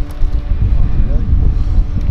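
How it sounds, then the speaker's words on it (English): Wind gusts across an outdoor archery course in Park City, Utah, buffeting the microphone with a steady low roar for a couple of seconds. "It doesn't get any less windy."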